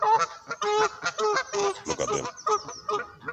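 A flock of geese honks loudly and close by in repeated overlapping bursts, with a brief spoken remark mixed in.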